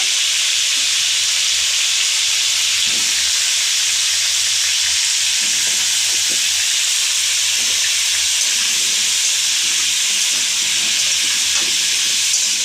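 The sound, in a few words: potatoes frying in a pan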